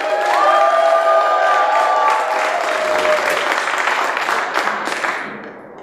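Loud crowd cheering and applauding at a Shark Tank startup pitch event in San Francisco, with shouts and whoops over dense clapping that holds steady, then fades near the end.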